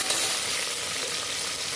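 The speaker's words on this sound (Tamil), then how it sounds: "இந்த வெங்காயம் கொஞ்சம் வதங்கணும்." Sliced onions fry in a pan for Tirunelveli-style ghee rice, giving a steady, bright, close sizzle that holds even and unbroken, with no voices.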